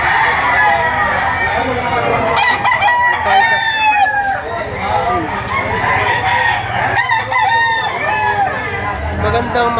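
Several loud, close rooster crows ring out repeatedly among the clucks of other fowl, while people talk over the birds throughout.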